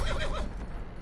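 A horse in a video game gives a loud, close neigh that rises and wavers before trailing off into a softer snort, standing alone without talk.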